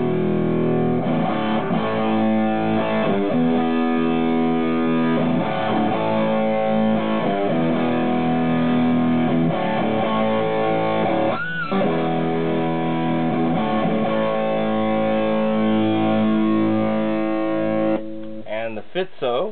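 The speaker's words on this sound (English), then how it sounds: "which is a fuzz distortion." Electric guitar run through a Himmelstrutz GRAMPS fuzz distortion pedal, thick fuzzy sustained chords and riffs played continuously and loud, ending with a few quick picked notes.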